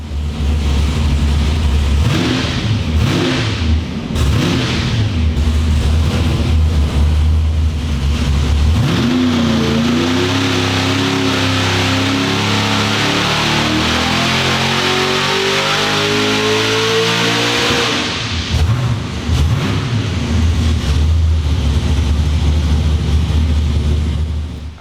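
A car engine running a pump-gas pull on a dyno, loud and close: it idles, then revs steadily higher in one long sweeping climb, peaks, and drops back to a rumbling idle, with no talking.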